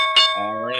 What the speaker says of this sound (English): that's the sound of the bell.